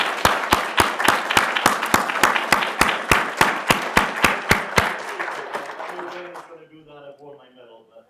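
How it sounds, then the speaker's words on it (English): Applause at a mentoring network lunch, sharp and rhythmic with distinct claps at first, then a dense round that tapers off, with talking rising as the clapping ends. "give him a round of applause"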